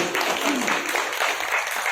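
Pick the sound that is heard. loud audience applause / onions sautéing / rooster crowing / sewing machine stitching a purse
loud audience applause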